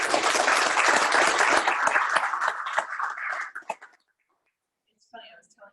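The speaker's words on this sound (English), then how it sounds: "Give Rayanne a round of applause." Audience clapping at a small business awards recognition event, dense sustained applause from many hands that fades out after a few seconds, followed by brief talk.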